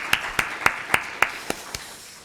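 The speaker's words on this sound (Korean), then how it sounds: "이곳에 있는 우리 모든 분들을 환영하고 축복하는 마음으로 크게 박수 한번 하겠습니다" Church congregation clapping during a Sunday service anniversary welcome, a handful of separate sharp claps spaced steadily apart over a low room hum, fading toward the end.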